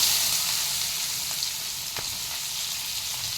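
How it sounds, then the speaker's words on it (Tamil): Fennel seeds and shallots frying in oil for a home-style anchovy dried-fish thokku, a steady close crackling sizzle with a few faint pops and no talk. "அதே எண்ணெயில் சோம்பு போட்டுட்டு சின்ன வெங்காயம்,"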